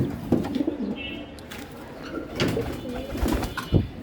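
Pigeons coo in a loft, silver-patterned birds among them, with soft repeated coos and rustling close by over a low background murmur.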